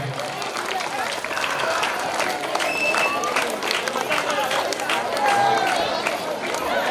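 Audience at a Sri Krishna Jayanthi prize-giving function in Kuruvadi clapping for a student receiving a prize, a steady crowd applause with chatter and a voice talking over it.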